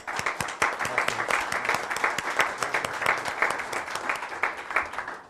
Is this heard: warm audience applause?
yes